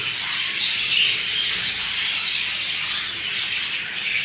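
Young budgerigar chicks calling together at close range, a dense continuous chorus of high raspy chirps and squawks that stays loud and steady throughout.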